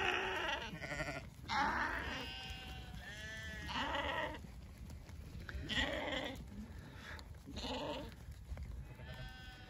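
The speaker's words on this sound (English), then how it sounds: "Annual sale of 6-year-old ewes." Six-year-old ewes at an annual breeders' sale bleat repeatedly, several calls overlapping at moderate distance over a steady background hum of the yard.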